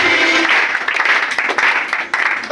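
An audience at a direct-selling leader's speech claps, producing a dense, steady wash of applause from a crowd that continues through the brief moment without any talk over it.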